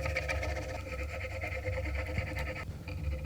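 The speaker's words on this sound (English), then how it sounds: "This is the first time I'm using a serger" A serger sewing machine stitches through fabric with a continuous, fast mechanical whir and hum at moderate loudness, running steadily without pause.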